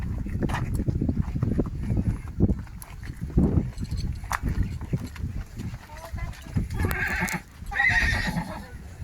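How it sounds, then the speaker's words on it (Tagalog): A horse at a ranch in Bukidnon whinnies amid irregular hoof thuds and clops, close and fairly loud, with a few sharper calls near the end and people talking outdoors nearby. "Yung kabayo, guys."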